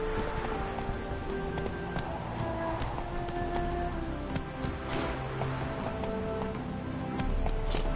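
Roach, Geralt's horse in The Witcher 3, gallops in a steady rapid patter of hooves over a soft game soundscape, continuous and moderately close.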